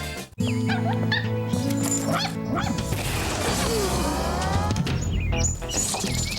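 A puppy yips, barks and whimpers in a Purina Puppy Chow ad, with a crash and thud partway through and bright musical tones underneath, loud and close.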